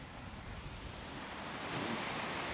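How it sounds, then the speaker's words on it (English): Winter surf washing onto the shoreline at Scarborough Bluffers Park, a steady broadband roar of waves with wind mixed in, swelling slightly louder toward the end and continuing without pause. "there's waves at the shorelines"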